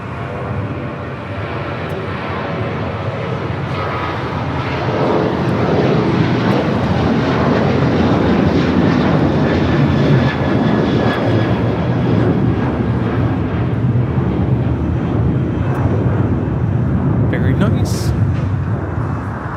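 A jet aircraft rolling at LAX, heading toward runway 25 right, gives a steady broadband engine roar that holds loud and continuous throughout, with distant radio chatter faintly underneath.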